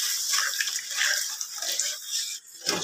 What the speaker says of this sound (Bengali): এবার আমি এর মধ্যে দিয়ে দিলাম জল।